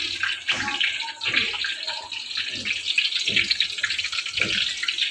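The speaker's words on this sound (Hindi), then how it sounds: "तो जी हमारा ऑयल गर्म हो गया और मैं इसको डाल देती हूँ।" French fries drop into hot oil and fry with a bright, steady bubbling hiss, close and continuous, with a few low thumps and stirs and no talk.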